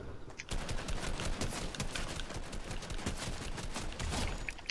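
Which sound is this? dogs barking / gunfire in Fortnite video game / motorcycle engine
gunfire in Fortnite video game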